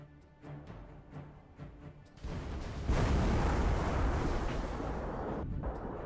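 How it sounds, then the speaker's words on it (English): A Halo 3 longsword explosion effect from mod tools bursts in around two seconds in, then builds into a loud, sustained rumbling roar that carries on with no speech. "I think it's actually a reasonably sized explosion for the longsword"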